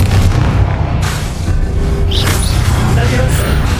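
A Confringo blasting spell explodes in Hogwarts Legacy as a loud, dense boom with crackling bursts over a continuous low rumble of combat.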